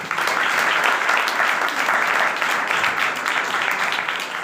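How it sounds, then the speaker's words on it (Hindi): A church congregation claps loudly and steadily in sustained, dense applause that fills the room throughout. "इस बात में मैं अपनी कलीसिया की तमाम बहनों के लिए, भाइयों के लिए तालियों का कहती हूँ कि उनके लिए जोरदार तालियां चाहिए।"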